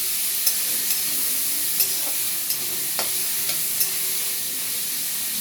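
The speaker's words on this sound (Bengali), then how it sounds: "এবার এগুলো নুন হলুদ মাখানো গুগলিগুলো তেলের মধ্যে ছেড়ে নেব। এবার লাল করে ভালো করে ভেজে নেব।" Freshwater snails coated in salt and turmeric fry in hot oil, giving a loud, steady sizzle with occasional stirring clicks and scrapes spaced through it, no voices.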